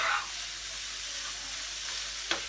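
Chicken curry with torn banana leaf pieces is stirred in a pan, giving a steady, faint sizzle with soft scraping and a single sharper clack near the end, with no voices.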